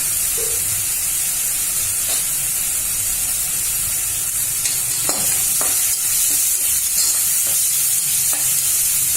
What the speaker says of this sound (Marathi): हे कांदे जास्त शिजवायचे आवश्यकता नाहीये थोडे शिजवायचे